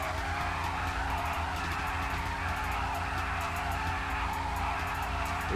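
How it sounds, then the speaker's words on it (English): Tires of a Hennessey Camaro ZL1 Exorcist skidding during a warm-up burnout on the strip in GTA 5, a continuous loud squeal over a droning engine, steady throughout with no speech. "Warm up them tires a little bit."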